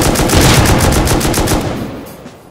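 Loud, rapid automatic gunfire in a shooter video game, a continuous rattling burst of evenly spaced shots that tapers off and fades near the end.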